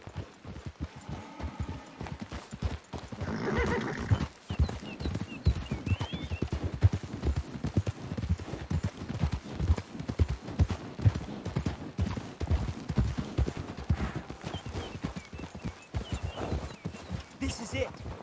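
Horses clip-clop at a steady trot in Red Dead Redemption 2, a dense run of hoof beats across the whole stretch, with a brief whinny near the start and occasional voices talking over the hooves.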